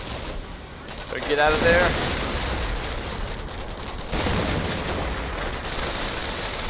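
Artillery fire in the World War II strategy game Company of Heroes, with two heavy booming impacts rumbling under a commentator's voice.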